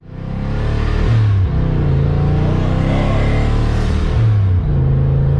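Car engine fitted with an ON3 turbo, revving loud and close, with harmonic engine tones stepping up and down in two rev swells over a continuous roar. No voices.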